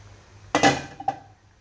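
A metal lid lifts off a pot of boiling chicken soup with one sharp clatter followed by a lighter second clink, close by, then faint bubbling quiet.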